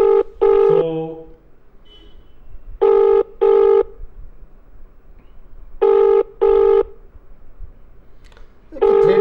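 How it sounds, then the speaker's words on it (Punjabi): An outgoing telephone call rings on the line with repeated double-burst ringback tones. The pairs of tones are spaced evenly with quiet gaps between them, and a brief word is spoken at the start. "ਅਸੀਂ ਇੱਕ ਕਾਲ ਕਰਨ ਲੱਗੇ ਹਾਂ"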